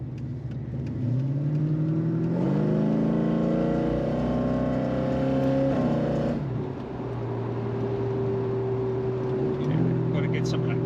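A 1982 Ford XE Fairmont Ghia with a 5.8L V8 accelerates from inside the car, its engine note rising steadily through the revs, dropping at a shift, then holding a steady drone, with people talking over it.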